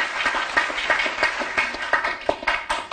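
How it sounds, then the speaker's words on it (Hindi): A studio audience applauds a 30 lakh grant announcement on a business innovation show, a dense, steady burst of clapping that holds throughout at close range. "जोरदार तालियां होनी चाहिए भाई इस पर"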